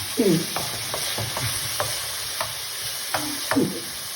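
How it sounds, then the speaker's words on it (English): Steady close sizzling of Bolognese sauce frying in a pan, with a spoon scraping and stirring in irregular strokes throughout. "Just love the sound of the sizzling."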